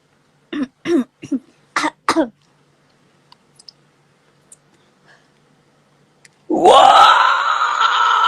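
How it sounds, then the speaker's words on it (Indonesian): Several sharp coughs in quick succession, a brief pause with faint clicks, then a long loud wailing cry. "Batuk juga. Udah jangan batuk-batuk."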